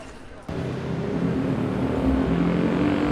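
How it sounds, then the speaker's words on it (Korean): Car engines in city traffic make a loud, continuous roar that swells after a brief quieter opening and keeps building into a dense wash of traffic noise. "자동차의 요란한 엔진"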